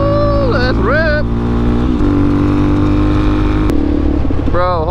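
A supermoto motorcycle revs and pulls away on a road trip leaving a city, its close, loud engine rising and shifting through gears with a steady roar and brief pitch sweeps, partly mixed with talk.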